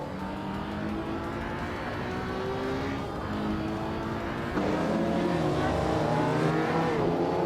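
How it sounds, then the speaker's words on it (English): Racing cars in a video game race roar with layered engine tones, shifting pitch as they accelerate and jump to a louder, higher revving surge partway through, continuous with no talk. "Scuderia Veloce and Pippi Langstrumpf are locked in a fierce fight"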